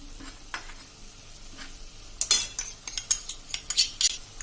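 Tomato masala with tomato sauce for Surati cheese paneer ghotala is stirred in a pan, with a low sizzle and a quick run of sharp spoon clinks and scrapes against the metal.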